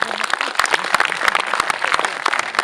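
An audience applauds at a French sports club's season presentation, a dense, steady wash of many hands clapping close and fairly loud for the whole stretch, with no talk over it.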